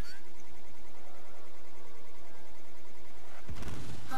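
A torpedo fires at a 3690 Armored Cutter during a video game beta test: a steady, dense hum runs on until a sudden deep, heavy boom breaks in near the end.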